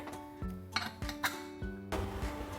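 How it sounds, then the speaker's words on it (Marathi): A pressure cooker lid is fitted on, close by: several sharp metallic clanks and scrapes, each leaving a brief ringing tone. "आता इथे मी कुकरचं झाकण लावून घेते"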